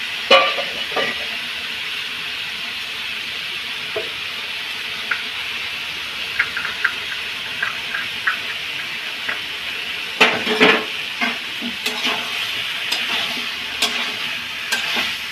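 Papaya pieces stir-fried in a home kitchen pan with Kashmiri chilli powder for a vegetarian kosha dish: a steady close sizzle with scattered spatula clinks and scrapes, growing busier with stirring later on.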